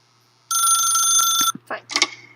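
A telephone rings once in The Stanley Parable video game, a loud electronic ring lasting about a second, followed by a few short clicks and clunks as the receiver is handled.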